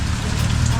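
Steady rain falls outside a mall in a constant, dense hiss with a low rumble, filling the whole moment without any voices.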